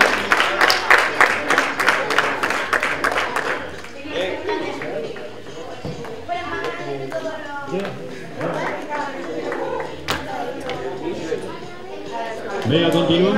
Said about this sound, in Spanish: Fuerte aplauso para esta categoría de Lin masculino